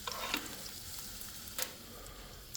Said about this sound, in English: I'm going to add just a little bit to my hot pan over here.